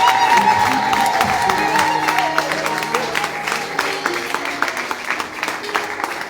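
A church congregation applauds to welcome a preacher, crowd clapping and cheering under a few whoops, with a voice speaking over the noise.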